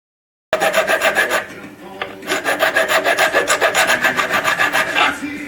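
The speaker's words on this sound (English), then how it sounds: "And now some filing over the second hole." A metal file rasps across a brass bracket, shaping it around a drilled hole, in steady close strokes after a brief silence, with a short pause near the middle.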